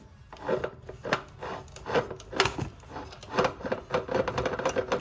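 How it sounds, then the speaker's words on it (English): Dry, irregular grinding and scraping from a smoked ring and pinion on a 2008 Yamaha Grizzly 80cc four-stroke ATV as the axle is spun by hand, close and uneven with rasping clicks throughout. "you hear it locking up in there and making some kind of grinding sound"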